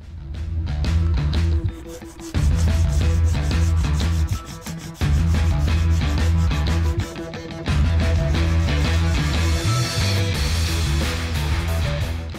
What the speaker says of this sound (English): I've gone over it with some sandpaper to smooth it out, and now I'm going to do the other side